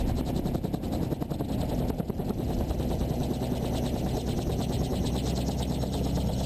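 Autogiro coming in to land with its rotor slowing, a loud steady droning hum with rhythmic rotor chop throughout, close and constant, with wind rush over it.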